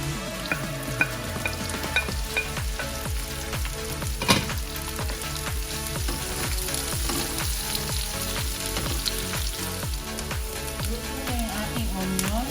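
Onion frying with garlic in a pan for laing, a taro leaf dish with coconut cream and shrimp, a steady close sizzle broken by rhythmic stirring scrapes, with no talking.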